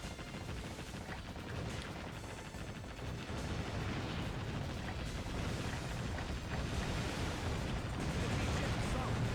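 Battleship-sinking explosions in the naval combat video game Warship Gunner 2 roll on as a dense, continuous rumbling barrage of booms and blasts, loud and unbroken, with no clear pauses.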